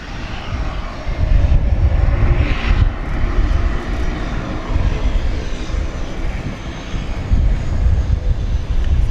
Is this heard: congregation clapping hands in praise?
no